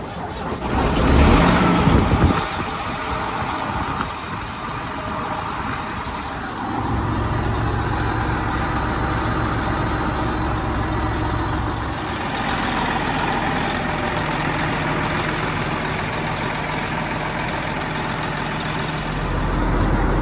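A Freightliner Coronado truck engine cranks and fires, then settles into a steady low diesel idle that runs on continuously, close and loud with no talking.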